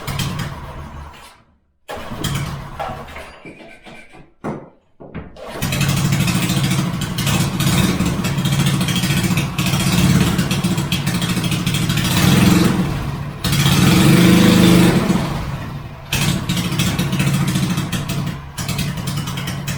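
A go kart engine sputters and catches after a few false starts, then runs steadily at a loud, close idle with slight rises in revs.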